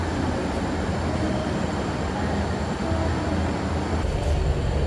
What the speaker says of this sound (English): I am taking a train. I'm at the Waterloo station